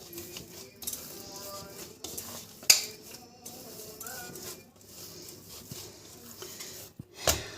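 Soft, squelchy stirring and kneading of cheese borek filling and dough by hand in a bowl, close and low, with a few sharper knocks against the bowl.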